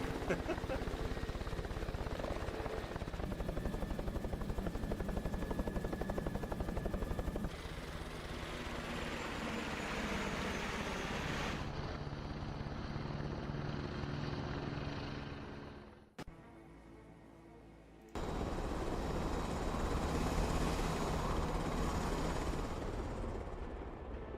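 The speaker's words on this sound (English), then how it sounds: "you'll have to wait until the helicopters are done making tons of noise to talk." Military helicopters from the game Broken Arrow, a loud continuous rotor and engine roar that shifts in texture several times, briefly dropping away before returning at full strength.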